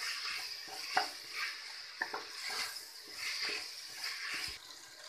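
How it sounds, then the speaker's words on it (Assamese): Roasted cumin and jaluk powder are stirred into a pan and fried, giving faint, close scraping and soft sizzling in short irregular strokes against a quiet kitchen background. "গুড়িখিনি ইয়াত দি দিম দি পেলাই খুব ভালদৰে এইখিনি মিলাই পেলাই ভাজিম"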